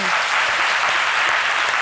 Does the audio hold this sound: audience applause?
yes